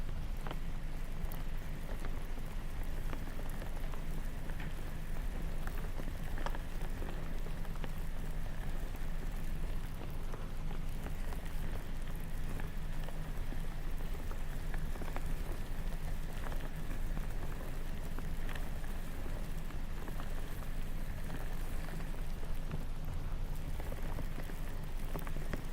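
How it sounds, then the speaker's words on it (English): Orbeez gel beads shifting inside mesh bags make a dense, steady patter like rain drumming on a car roof or tent, continuous and fairly loud for the whole stretch, with no voices. "I need to introduce you to Orbeez in mesh bags. It sounds like rain hitting the car or rain hitting a tent."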